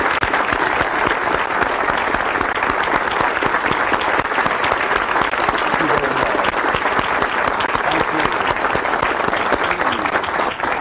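A large seminar audience gives a sustained, loud round of applause for motivational speaker Zig Ziglar, dense clapping from many hands continuing evenly throughout without pause.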